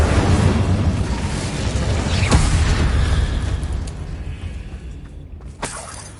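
Bombarda blasting spell in Hogwarts Legacy going off as a loud, booming explosion that rumbles and decays over several seconds, with a sharp crack partway through and another burst near the end.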